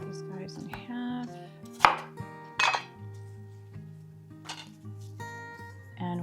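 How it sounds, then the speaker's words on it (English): Knife slicing apples in half on a cutting board, several sharp chopping knocks spaced irregularly among soft clinks of dishes and utensils, close and fairly quiet with no talking. "Cut these guys in half."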